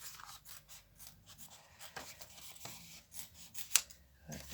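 Scissors snip out paper pieces for a craft bouquet, a quiet run of separate close cuts and soft paper rustles with one sharper snip near the end.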